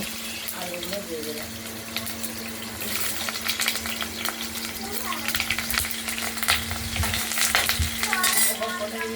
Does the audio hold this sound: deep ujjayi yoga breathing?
no